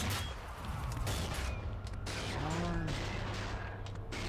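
Rapid gunfire in the zombie shooter Dead Army, dense overlapping shots and bursts mixed with mechanical clanks and a ringing metallic ping, loud and continuous against a low rumble.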